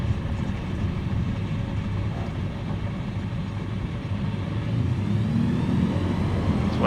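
A small STOL airplane engine rumbling steadily on a tiny Kentucky field after landing, a loud, close, even drone that swells slightly toward the end, with no voices.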